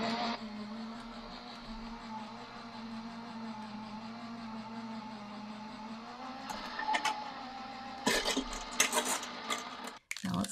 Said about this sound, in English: I will run this through my die